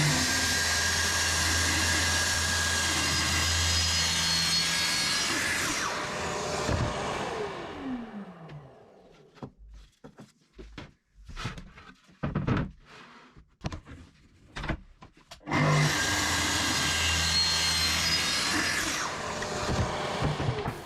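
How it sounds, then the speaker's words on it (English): A track saw making bevel cuts in wood: a loud, steady motor whine while cutting, winding down to clunks and handling knocks, then spinning up again for another cut. "these were easily completed with a track saw."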